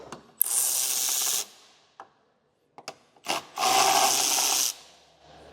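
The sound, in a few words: 10mm wrench unscrewing car tail light screws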